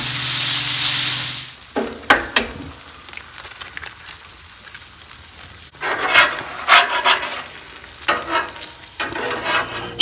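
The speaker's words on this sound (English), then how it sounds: "I cooked 1 pound of hamburger, 3 eggs, and 4 slices of bacon" Hamburger, eggs and bacon frying in a pan, a steady hiss at first, then bursts of sizzling and stirring scrapes that come and go, close by with no talk.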